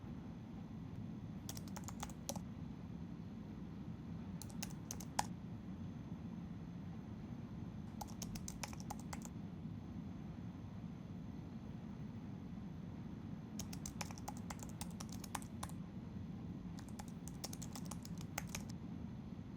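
Quiet bursts of typing on a computer keyboard, several short runs of rapid key clicks separated by pauses, over a low steady fan-like hum, with no voices.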